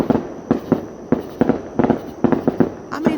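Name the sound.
fireworks exploding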